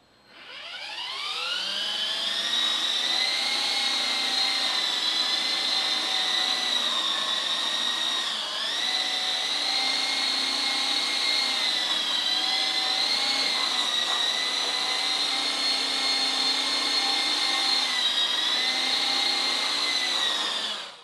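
A small radio-controlled helicopter's rotor and motor whine at a steady high pitch, close and loud, holding level the whole time with only slight wavers as it scoots sideways left to right.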